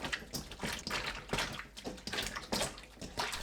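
Small octopus is rinsed by hand in water, with quiet, rhythmic splashing and sloshing in short repeated bursts, no voices.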